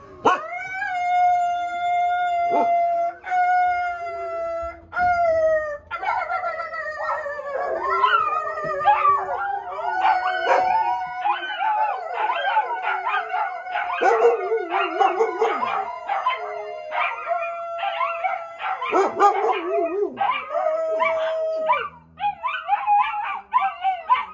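A dog barking and howling: loud, drawn-out tonal howls, broken by sharp barks and yips in quick bursts, close and continuous with brief pauses.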